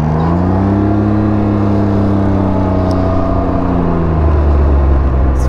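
Riding a Can-Am Ryker 900 three-wheeler produces a steady, close engine drone whose pitch shifts slightly as it rolls along, with no voices over it.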